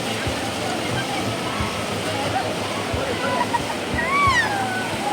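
River water rushes steadily at Mukkombu dam near Trichy, a broad continuous roar with splashing, while voices talk briefly over it.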